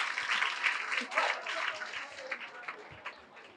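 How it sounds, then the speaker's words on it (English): Audience members at a Berkeley Lab research presentation event clap for a contestant in a moderate, uneven burst that fades gradually, with a voice speaking faintly through it. "A round of applause for him."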